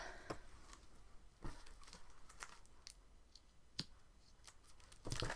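Scissors snip through crinkly cellophane wrapping on a book, giving a few sharp, separate cuts and crackles over a quiet room, with a louder rustle of plastic near the end.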